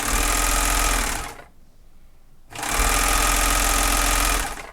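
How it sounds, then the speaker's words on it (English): A serger overlocks the edges of a batwing top in two loud, close, continuous whirring runs with a deep motor hum, separated by a brief pause. "The first thing I'm gonna do is serge it around."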